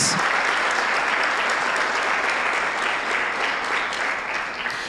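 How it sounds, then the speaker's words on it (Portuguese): Loud, dense congregational applause during a church service, a continuous wash of clapping that holds steady and eases slightly toward the end, with no voices over it. "Podemos aplaudir Jesus, irmãos, amém?"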